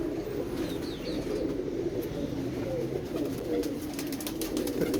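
Pigeons coo in a low, steady murmur throughout, with soft continuous cooing and faint higher chirps from other birds; no talking is heard.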